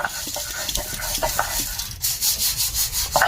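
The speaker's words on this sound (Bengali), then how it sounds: "জিরে মরিচ সব বেটে নেব শিল নড়ায় এখন বাটতে বসেছি" Garlic, green chillies, cumin and spices are ground by hand on a stone grinding slab in a village kitchen, producing close, gritty rubbing and scraping strokes in an uneven rhythm.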